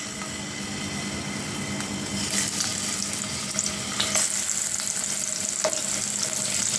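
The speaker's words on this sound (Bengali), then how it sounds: "তেল ভালোভাবে গরম হয়ে আসলে এর মধ্যে আমি মাছগুলো ছেড়ে দিব।" Boal fish sizzles in hot oil in a pan, a steady hiss with bursts of spattering crackle building in the second half, close and fairly quiet, with no talking.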